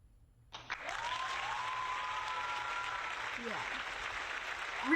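Sustained applause starts suddenly after a short quiet moment and holds at an even level, with whistle-like tones and a voice speaking over the clapping.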